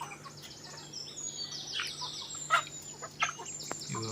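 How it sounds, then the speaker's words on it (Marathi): Free-range village chickens in a Konkan backyard flock give soft, faint clucks and chirps scattered over quiet ambience, with a couple of slightly louder calls. "प्युअर गावठी कोंबडी आहे आपल्याकडे"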